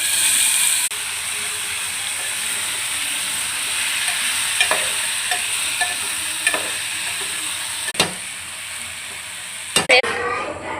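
Onions with ginger paste frying in a pan, a steady broadband sizzle under occasional clinks and scrapes of a spoon stirring, with a few sharper knocks near the end.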